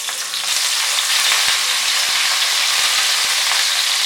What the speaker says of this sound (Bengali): মাঝারি আছে একটু সময় নিয়ে ফুলকপিগুলো ফ্রাই করতে হবে।